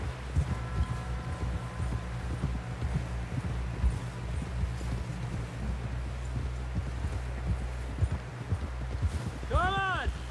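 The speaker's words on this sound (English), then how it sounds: "Someone help John down off this horse" A horse gallops with steady clip-clop hoofbeats through Red Dead Redemption 2, heard over a continuous low rumble and wind noise, with a voice speaking over the ride.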